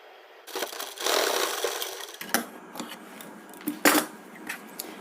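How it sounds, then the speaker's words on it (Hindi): A sewing machine stitching a petticoat, bursts of rapid mechanical whirring and clattering broken by brief pauses and sharp clicks, close by with no talk. "हाथों से इस तरह से रख के सिलाई लगाते हुए जाएंगे।"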